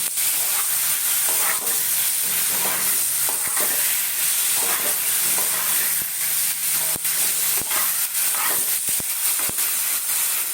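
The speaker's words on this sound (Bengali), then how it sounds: "যখন এগুলো ভাজছি তখন লঙ্কাটা দিয়ে দিলাম" Oil sizzles and hisses loudly and steadily in a pan as fresh green chillies fry for an egg curry, with occasional stirring scrapes and clicks throughout.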